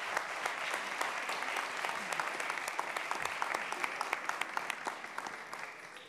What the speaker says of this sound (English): please welcome Giulia Poli with a warm applause